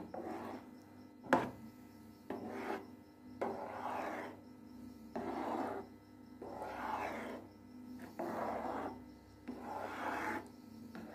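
Spoon stirred gently through egg halwa with ghee and khoya in a pan, making soft rhythmic scraping rubs roughly every second or so, close and moderate, with one sharp knock early on.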